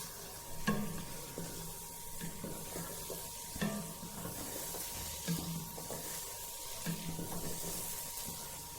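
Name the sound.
semolina halwa being roasted and stirred in oil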